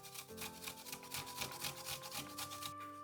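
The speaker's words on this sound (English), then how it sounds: "Grate a piece of ginger" Ginger root rubbed against a grater, a steady run of quick rasping scrapes at close range with no talk.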